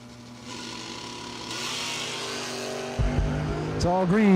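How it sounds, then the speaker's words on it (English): Race cars at a drag racing season kick-off event idle and rev before a wheel-to-wheel run, engines droning steadily and then rising in pitch toward the end, heard loud and close. "It'll be a wheel-to-wheel race, start to finish."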